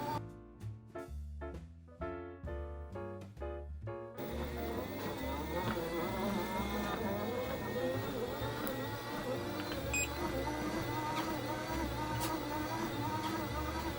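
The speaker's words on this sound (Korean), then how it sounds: "이 모터가 돌아가는 윙윙거리는 소리가 아마 올라가 있는 사람의 체중에 따라서 달라지는 게 아닌가" Steady mid-level whirring hum from a Xiaomi WalkingPad A1 Pro treadmill motor running indoors on yoga mats, continuous with faint tonal whine; a brief louder rhythmic passage opens the sound before it settles into an even drone.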